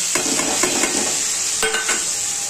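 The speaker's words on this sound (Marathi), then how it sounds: "आता हा कांदा याच्यामध्ये टाकायचा." Onion fries in a hot pan to brown it, with a continuous bright sizzle and several light clinks and scrapes of a spoon stirring, close and fairly loud.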